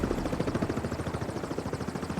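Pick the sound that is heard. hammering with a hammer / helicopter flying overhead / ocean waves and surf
helicopter flying overhead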